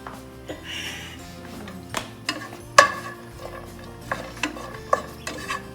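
Onions cooking in a pan as it heats, with quiet stirring and scraping, a faint low sizzle, and several sharp utensil knocks against the pan spaced irregularly.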